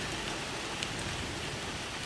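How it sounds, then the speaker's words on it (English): Heavy rain falls steadily at night, a dense, loud, even hiss of drops on surfaces with no pauses and no talking. "It is really raining."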